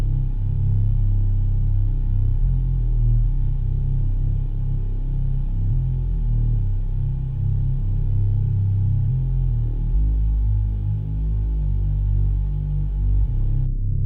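A reese bass synth patch from Serum plays a deep, thick, detuned low-end drone with slowly shifting notes, loud and continuous with no voices.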